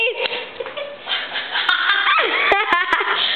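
A dog yips and whimpers several times amid background chatter and movement, with short sharp barks near the end.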